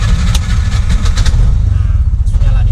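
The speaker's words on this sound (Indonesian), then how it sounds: "Kita starter dulu, setelah bunyi mesin baru langsung kita pindahkan ke G." A Bajaj RE auto rickshaw running on LPG cranks and fires up, its small engine settling into a steady low rumble close by, with brief clatter in the first seconds and voices heard over the running motor.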